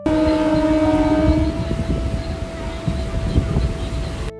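A cartoon train pulls away with a long horn tone over a rumbling, clattering run of wheels that stays loud and steady before cutting off abruptly, with no voices.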